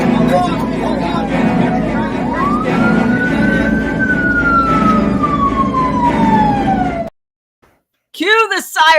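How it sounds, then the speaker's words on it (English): A loud siren wails, its pitch rising and falling over crowd noise and chatter, then cuts off abruptly before voices resume. "Cue the sirens."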